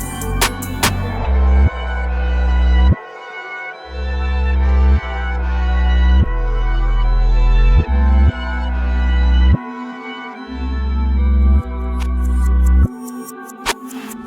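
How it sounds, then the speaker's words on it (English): A beat plays reversed 808 bass hits swelling in a repeating rhythm under a melody, each note rising in loudness and cutting off, with a riser at the end. "I took the 808 pattern, printed it, and reversed it."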